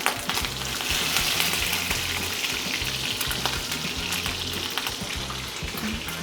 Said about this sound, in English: we're going to start with the sear